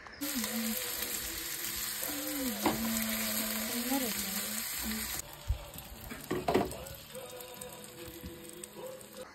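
An omelette sizzles steadily in a pan inside a 1992 Peugeot J5 Europa 560 camper van. A voice speaks briefly over the frying, and a few clatters follow partway through.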